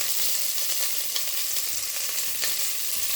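Chopped onion and green chillies frying in a pan for white chickpea curry, a steady close sizzle with faint stirring scrapes throughout, no voices.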